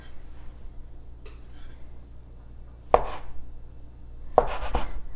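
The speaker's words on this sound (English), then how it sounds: "So now we're going to cut this dough in half" Cinnamon roll scone dough being cut into pieces with a dough scraper on a board, a few sharp isolated chops spaced apart over quiet kitchen background.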